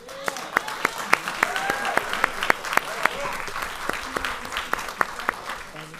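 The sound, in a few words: audience applause for award at school committee meeting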